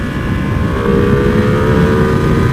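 A 2020 Ducati Panigale V2 twin-cylinder motorcycle engine drones steadily at fairly high revs, loud and close, with a constant mechanical roar and no voices.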